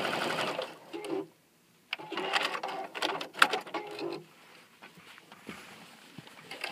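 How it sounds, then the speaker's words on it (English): A sewing machine stitches binding onto a quilt in close, buzzing runs of rapid stitches, stopping briefly for about a second before resuming in shorter bursts, with a voice briefly audible. "and continue sewing."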